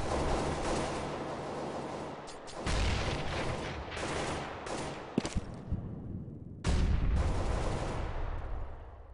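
Grenade blasts and gunfire in a competitive online shooter match, with dense, loud bursts of explosions and rapid shots layered over a constant rumble, swelling again near the end.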